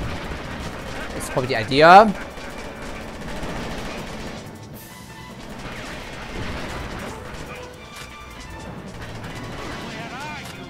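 Thrown explosives go off in Psi-Ops: The Mindgate Conspiracy, a sharp loud blast and crash near the start, then gunfire and rumbling action under ongoing talk.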